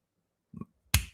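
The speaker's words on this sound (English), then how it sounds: "Snap your fingers." A single sharp finger snap, close and crisp, coming right after a softer brushing rub of the fingers in an otherwise quiet moment.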